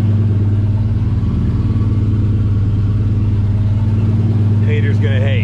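A turbocharged 5.3-litre GMC Yukon V8 idles steadily up close, its low, even rumble running unbroken throughout, with a brief higher whine or squeal near the end.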